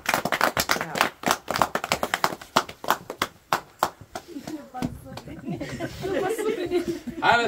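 An audience at a musical surprise at the Pralea cabin claps in a dense burst of hands that thins out, mixed with laughter and chatter as people talk.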